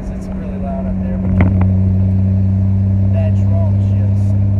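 Loud interior drone inside a 2001 Ford Mustang V6 driving with the window down, a steady low engine hum and wind rush that grows slightly, with someone talking over it.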